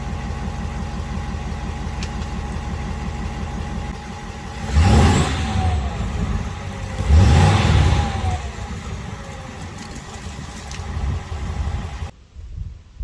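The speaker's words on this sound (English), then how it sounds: "give it a little bit of a rev" A cold 2022 Ford F350 with the 6.7 Powerstroke diesel and stock exhaust idles with a low rumble, then is revved twice in short, deep blips that swell and fall back to idle before the sound cuts off.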